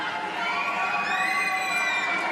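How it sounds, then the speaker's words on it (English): Home fans roar and cheer at a wheelchair curling match in Milano, a dense sustained crowd noise with whistles and shouts rising near the middle. "The home fans, they have been cheering their side the entire game"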